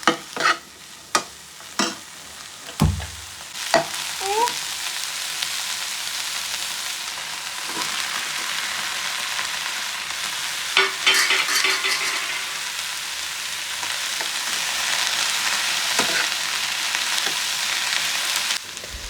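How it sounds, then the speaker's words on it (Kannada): Vegetables sautéing in a pan with salt and pepper, a steady close sizzle with repeated sharp stirring knocks of a spoon against the pan, loudest early and continuing throughout. "ಸೊ ಇಷ್ಟ್ರಾಗ ಮಸ್ತ್ ಸಾಟೆಡ್ ವೆಜಿಟೇಬಲ್ ರೆಡಿ ಆಗ್ತೈತಿ"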